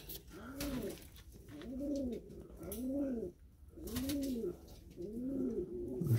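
Large pigeon, likely a male, cooing repeatedly in rhythmic two-part phrases, about five coos over several seconds, close and clear against light background noise, no talk.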